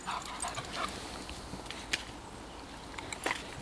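An adopted dog on a country walk gives faint, brief whines and small yips against quiet outdoor background noise.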